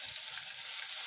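Chopped green chilies sizzle in a pan for Maharashtrian thecha, a brief, steady, close frying hiss with faint stirring underneath.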